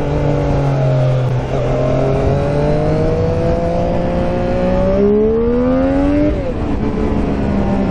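A Triumph Street Triple RS motorcycle accelerates hard in first gear, its engine note climbing steadily in pitch as revs build, loud and close, dipping briefly before rising again at the end.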